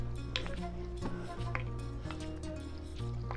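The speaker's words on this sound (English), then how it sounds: "I'm just gonna mix it together with the spoon that I'm about to use." A spoon stirs noodles and broth in a pot, with light clinks and scrapes against the sides over a steady low kitchen hum, close and continuous.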